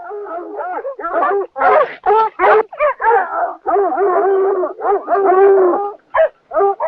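A dog barks and howls in a string of wavering, voice-like yowls and whines, close and loud, with short gaps between outbursts.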